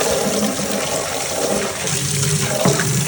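Old water pouring out of a condensation pump, a steady continuous splashing gush that runs throughout with no talk over it.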